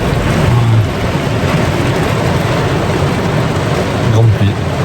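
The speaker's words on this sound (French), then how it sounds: "Grande pluie." A dense, steady roar of heavy rain pouring down in New Zealand, unbroken for the whole stretch, with a low rumble underneath.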